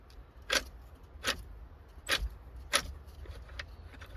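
A worn blower motor from a 2000 Chevrolet Silverado, turned slowly by hand, gives a handful of sharp clunks and rattles spaced about half a second apart, close up against a quiet background.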